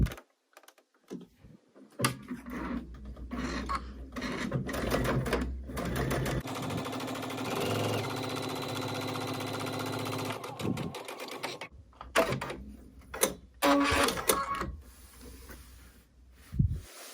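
A home sewing machine runs in bursts, stitching quilt sashing with a fast steady whir for several seconds between brief starts and stops, while someone talks quietly around it.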